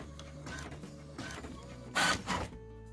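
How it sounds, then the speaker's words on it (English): An inkjet printer prints a photo onto a transparency, its print head whirring back and forth in several passes, with a louder mechanical push near the end before going quiet. "Before you print your photo, make sure to set your printer to transparencies and the quality to best."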